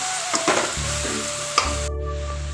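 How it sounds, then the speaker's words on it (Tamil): Home-ground chili powder sautés in a pan for a fish curry, sizzling steadily up close with a few quick scraping stirs, no voices. "நான் வீட்டில் அரைச்ச குழம்பு மிளகாத்தூள் தாங்க சேர்க்குறேன் நல்லா வதக்கலாங்க"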